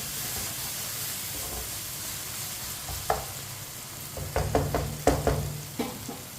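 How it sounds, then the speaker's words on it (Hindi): Spinach cooking in a pan, a steady low sizzle with a few sharp stirring scrapes and clatters bunching up toward the end, fairly close and with no voices. "पालक को मैंने 4-5 मिनट के लिए पका लिया है।"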